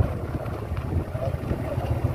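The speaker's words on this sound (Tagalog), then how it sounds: "yung hangin na po yung malakas" Strong wind roars and buffets against the microphone in a dense, low rumble, steady throughout with gusty fluctuations.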